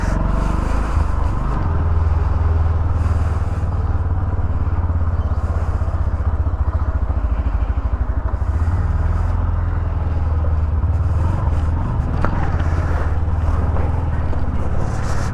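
A motorcycle ridden along a badly broken, rough road, giving a steady, close engine drone that runs continuously under heavy wind buffeting.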